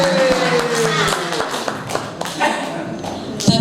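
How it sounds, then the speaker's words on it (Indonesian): An audience of teachers at a school dissemination session claps for Pak Rino. Scattered, uneven claps and taps sound fairly close, with voices and a brief tonal hum in the background. "Oke, tepuk tangan untuk Pak Rino."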